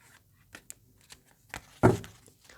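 Tarot cards shuffled by hand for a reading: a few soft, scattered card slides, then one short, sharp riffle near the end, all quiet and close.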